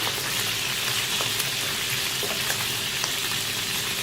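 Paella with eel and pumpkin frying hard in a pan for an Algemesí rice contest, a steady dense sizzle and crackle running throughout at even loudness with no talk.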